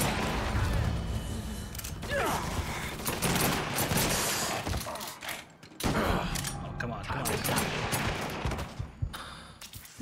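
Sustained gunfire in the video game Mafia III, bursts of automatic and single shots rattling near and loud, dipping briefly before resuming, with shouted voices mixed in.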